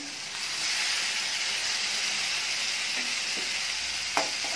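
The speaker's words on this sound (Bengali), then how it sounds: "এবার মশলাটা আমি ভালো করে কষিয়ে নেব।" Ground spice paste fries in a pan with a steady, even sizzle and hiss. It holds at the same level throughout, with faint stirring scrapes near the end.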